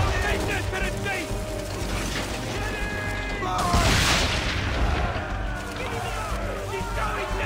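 Ship cannons fire at powder barrels during a naval battle in Assassin's Creed III, a dense wall of booming blasts and mechanical rumble that swells into a big explosion midway, with voices talking over it.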